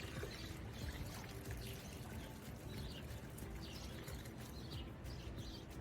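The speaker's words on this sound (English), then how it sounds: "So I'm gonna dump that and dump this boiling water." Boiling salt water is poured out outdoors near a Jeep, a faint, continuous splashing pour with birds chirping softly in the background.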